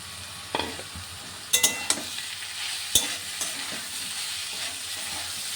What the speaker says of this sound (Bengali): এই টমেটোটা দিয়ে আর একটু এটা ভাজা ভাজা করবো